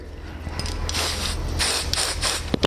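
Several short bursts of aerosol spray hissing close by, each a breathy whoosh lasting under a second, separated by brief pauses.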